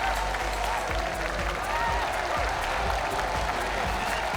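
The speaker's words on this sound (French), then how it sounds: "Elle va pouvoir être acclamée par la foule." A crowd at the Red Bull Ocean Rescue 2025 event applauds and cheers a finishing athlete, a continuous wash of clapping with some voices mixed in throughout.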